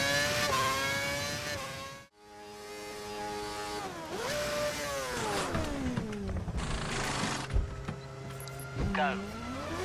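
Formula 1 cars race at the India round of the video game F1 2011, one lapping a car that is out of shape. High engine whines rise and fall in pitch as they pass, with a brief dropout and a faint voice underneath.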